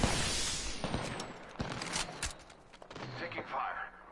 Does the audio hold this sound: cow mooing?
no